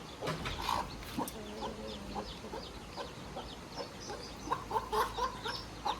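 Chicks cheeping and peeping nearby, with scattered short calls over a low background hum.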